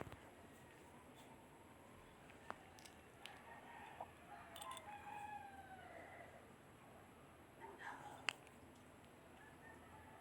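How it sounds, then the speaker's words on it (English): Roosters crowing and clucking somewhere outdoors, faint and distant, with a few calls spread across a quiet, hissy background. "there goes the roosters again"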